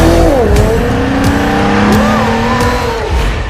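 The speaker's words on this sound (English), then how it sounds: "Nissan has a car for everyone." A car engine revs and its tires squeal in a Nissan commercial, loud and continuous, with shifting engine tones, a brief passing sweep and a faint voice underneath.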